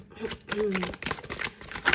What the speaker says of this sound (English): I don't like to see the cards when I shuffle.